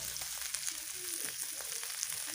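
Red curry paste stir-fries in hot pork lard in a pan, giving a short burst of close, steady sizzling with light stirring scrapes.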